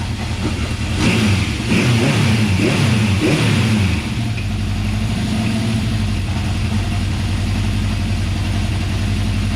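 An old Honda CB750 motorcycle engine cranks and catches, revving briefly before settling into a steady, fairly quiet idle that runs on evenly, close by with no talk.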